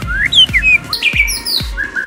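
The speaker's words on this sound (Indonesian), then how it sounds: "Ada 5 penyebab pada burung murai batu ngokluk saja." A white-rumped shama, the murai batu songbird, gives loud, close, clear whistled notes in a quick varied sequence, sliding up and down, with a few sharp accented chirps.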